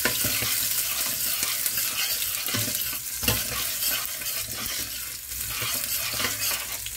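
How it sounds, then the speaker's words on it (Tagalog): Ginger and garlic sautéing in a hot pan give a steady, close, loud sizzle with occasional scraping stirs, and no voices are heard. "ngayon po, ang ilagisa ko muna yung ginger at saka garlic po"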